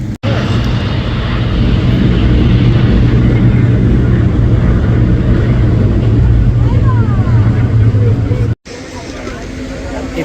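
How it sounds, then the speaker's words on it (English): A Ferrari 312 race car with a flat-12 engine runs at a motorsports reunion, giving a loud, steady, deep mechanical drone that holds without pause before a brief cut. "This is a 312 Ferrari. Does that have a... cylinder flat? It's a flat 12, right?"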